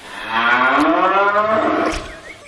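A single long, loud cow moo swells and holds for roughly two seconds before fading, heard up close with no voices over it.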